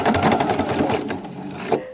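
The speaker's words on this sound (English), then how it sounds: "we're just going to start stitching along" A sewing machine stitching curved Drunkard's Path quilt block pieces, running in a fast rapid patter of needle strokes that slows and stops near the end, close and moderately quiet.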